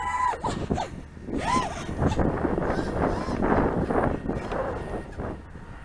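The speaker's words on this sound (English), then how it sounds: "the wind is starting to pick up" Gusty wind buffeting an open microphone outdoors during an FPV racing drone flight, a rough low rumble that swells and fades in waves, with someone talking over it.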